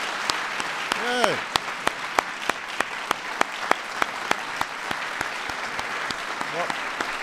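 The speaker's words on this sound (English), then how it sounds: "Let's give a big round of applause to all our" At a White House ceremony for the National Medals of Science and Technology & Innovation, a crowd applauds the awardees in a steady, full wash of clapping, with a few crisp nearby claps and brief vocal cheers rising through it.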